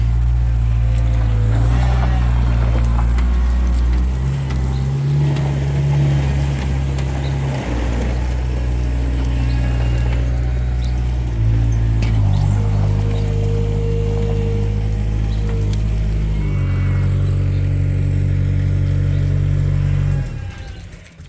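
A skid steer loader's diesel engine runs close by on a sheep farm, a loud low rumble that shifts pitch as it revs up and down, continuous until it cuts off at the end.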